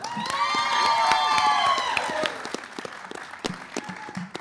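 An audience at a school quiz show between Hillwood Middle School and Holy Family Catholic School claps and cheers for the competitors, with loud shouts over the start before the applause thins into scattered claps.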